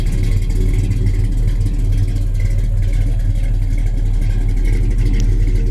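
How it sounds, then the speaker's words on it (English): A 1969 Road Runner muscle car with dual exhaust idles steadily close by, a deep, loud, continuous rumble with a slight lope and no talk over it. "just a nice Roadrunner muscle car sound"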